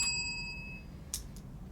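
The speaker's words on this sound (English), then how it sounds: "A single warning bell will sound 1 minute before the speaking time" A single bright ding from a debate warning bell rings out once in a quiet room, with a fainter second ring just after and a lingering tone fading at the start.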